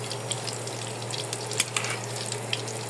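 Snacks frying in oil in a pan over low heat, a continuous gentle sizzle with scattered small pops and crackles, close and steady, with no voices.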